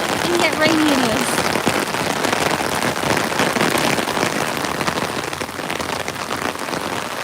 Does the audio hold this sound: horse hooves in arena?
no